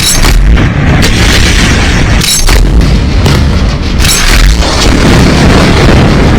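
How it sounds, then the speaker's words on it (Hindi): Missiles streak overhead and explode in a sustained barrage during the October 2023 Israel–Hamas conflict, a loud continuous roar broken by repeated heavy booms and bursts, with no voices. "आप हमारे सिर के ऊपर से लगातार जो है मिसाइल जा रही हैं।"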